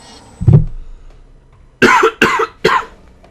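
Four coughs: one low, muffled cough, then after a pause three sharp, close coughs in quick succession.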